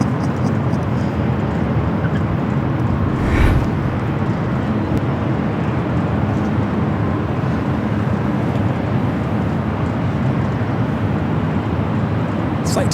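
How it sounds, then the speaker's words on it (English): A British Airways jet, the second London Heathrow flight of the day, passes at Los Angeles International Airport, a steady loud broadband engine roar that holds for the whole stretch with a brief swell near the start. "Oh, there goes British Airways."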